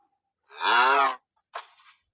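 A cow lows once in a video game, a loud, close, drawn-out moo lasting under a second, followed by a shorter, fainter second grunt, with silence around it.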